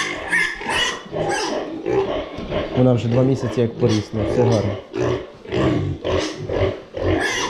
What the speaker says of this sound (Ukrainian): Це ж у нас свинка відбилася.